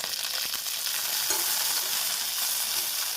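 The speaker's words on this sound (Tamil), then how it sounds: "நாம் வெண்டைக்காயை சேர்த்து பிசு தன்மை நீங்கும் அளவு வதக்க வேண்டும்." Okra sautéing in oil in a pan, a steady close sizzle of frying with faint stirring scrapes throughout, no voices.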